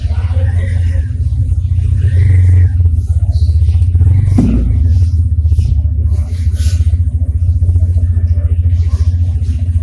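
Honda NX 200 motorcycle engine idling and running steadily on a test drive after its first service, a continuous low rumble throughout with a brief louder rev or bump midway and faint voices in the background.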